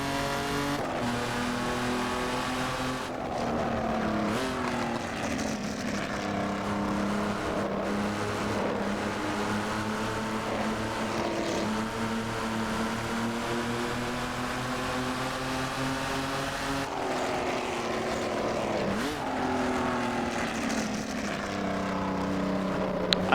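Jaguar XJ13 race car engine in the Assetto Corsa racing game, a loud, sustained multi-cylinder drone rising and falling through repeated revs and gear changes, with brief tire squeals, no talking.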